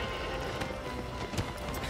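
Horse hooves clip-clop at a quiet, even level in the video game Shadow of the Colossus.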